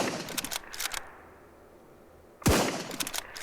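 A single sharp hunting rifle shot in the survival video game SurrounDead, loud and sudden, with a quick decay. Other clattering game sounds come before it after a brief near-silent pause.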